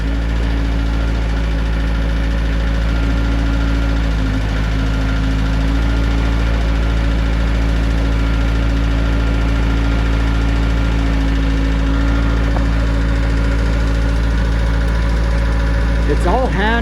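A Gehl skid steer engine idles nearby in a constant, rumbling, slightly knocking drone. It holds steady throughout, with a brief dip midway and a light clatter near the end.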